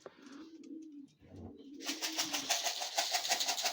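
Soft, low cooing from pigeons at the start, then a louder rhythmic mechanical rattling takes over in the second half.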